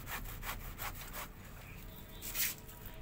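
A blade cuts through the thick base of a giant taro plant in a series of rhythmic rasping strokes, close and fairly quiet, with no talk.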